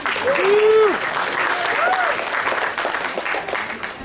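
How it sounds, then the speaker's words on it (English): Audience applause at a crocodile show at Hartley's Crocodile Adventures in Australia, a dense wash of clapping under a voice, with a brief whistle-like tone early on. "Give him a clap."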